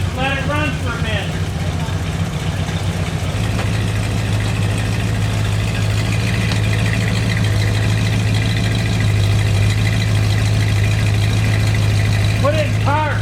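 Waylon Jennings' General Lee car idles with a steady, deep, throbbing rumble that holds even throughout, while people talk nearby over the engine.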